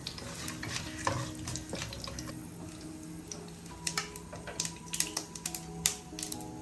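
Bay leaves, cinnamon and other whole spices frying in hot oil, a low crackling sizzle punctuated by sharp pops and spoon taps that grow busier toward the end, with no talking.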